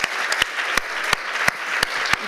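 Audience applause for guests at a cultural event in Santiago, steady dense clapping from a seated crowd, with several sharper individual claps standing out near the front, continuous and fairly close.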